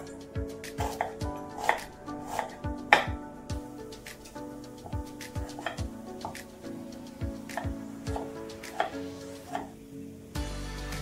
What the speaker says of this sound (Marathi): सर्वात आधी आपल्याला कांदा कट करून घ्यायचा इथं